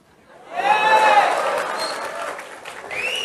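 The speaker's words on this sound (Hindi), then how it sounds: "आप लोगों ने तालियां बजाकर उनका प्रोत्साहन जो कर दिया" Students in a lecture hall break into applause for a classmate, a short burst of clapping that swells quickly and then tapers, with raised voices mixed in.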